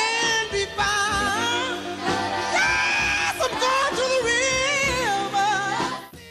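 A raw, full-throated scream on a recording, loud and sustained with dense band accompaniment throughout.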